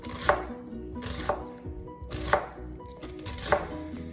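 A knife dicing an onion on a cutting board, four sharp chopping knocks spaced about a second apart, close and clear with no talking.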